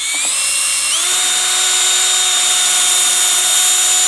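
Power drill with a mixing paddle stirring Stone Coat epoxy resin in a bucket, a loud steady whine that rises in pitch as it spins up in the first second, then holds constant with a faint scraping rub, no talking.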